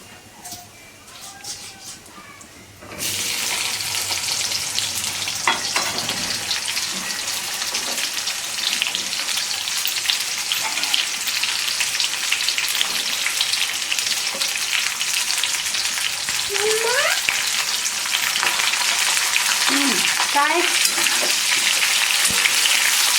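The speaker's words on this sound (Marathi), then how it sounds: "थोडे जिरे टाकले जिरे चांगले आहेत बघा आता भेंडी टाकायची" Okra hits a pan of frying cumin seeds and sets off a sudden loud sizzle that holds as a steady, close crackling hiss. Faint voices and light stirring sounds come through beneath it.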